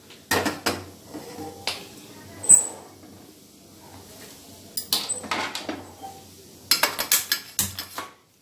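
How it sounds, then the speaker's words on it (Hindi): A pot of water holding giloy sticks is set down on a gas stove, giving a few sharp metallic clanks and knocks of cookware spread across the clip with quiet gaps between them. "इसे गैस पे उबलने के लिए रख दिया।"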